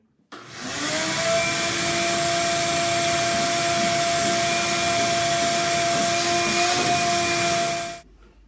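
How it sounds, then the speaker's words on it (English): A vacuum cleaner cleaning a workshop switches on, runs with a steady loud whine and roar for several seconds, then shuts off and winds down. "get all that out and use a trusty vacuum cleaner, clean our shop up a little bit today"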